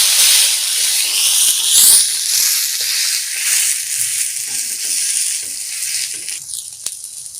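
Madurai mutton kari dosa sizzling loudly on a hot pan as it is flipped, a bright continuous hiss and crackle with a surge of spitting around the turn.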